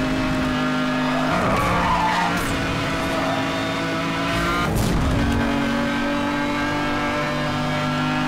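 A car in the racing game NFS Hot Pursuit Remastered skids hard after a handbrake pull, with loud tire screeching over a droning engine and a sharp burst of noise near the end.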